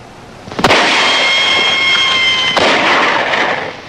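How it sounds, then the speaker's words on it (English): Two loud rifle shots crack about two seconds apart, each trailing a long rolling echo over a hissy background with a faint sustained tone. "That's rifle fire."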